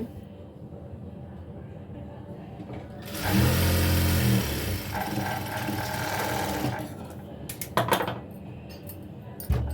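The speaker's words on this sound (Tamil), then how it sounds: "இந்த இடத்துல மடித்து தைக்கிறேன்" A sewing machine stitches a folded hem on a baby dress made from an old shirt, running loudly and steadily for about three seconds amid quieter handling noise before and after.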